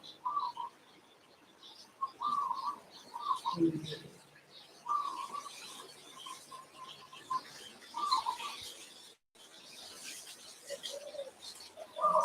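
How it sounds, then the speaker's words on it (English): Repeated bird calls and soft cooing outdoors, several short phrases spaced a few seconds apart over a faint, airy background. "Sound of the birds and the wind,"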